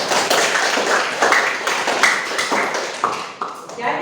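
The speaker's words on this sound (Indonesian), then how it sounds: "Bagus, tepuk tangan untuk Repa" A classroom of students claps for a classmate, giving a scattered, uneven patter of claps with a voice speaking over it.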